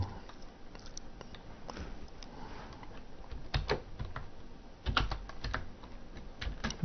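Keys clatter on a computer keyboard while a label is designed, with quick irregular clicks that bunch into faster bursts, close and fairly quiet with no voice over them.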